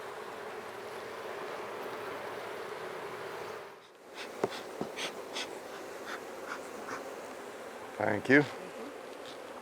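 A steady hum of many honey bees buzzing around a queen-rearing hive fills the air, briefly dipping, then resuming with a few louder passes up close; a voice speaks briefly near the end.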